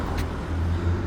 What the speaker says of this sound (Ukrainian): О, скільки машин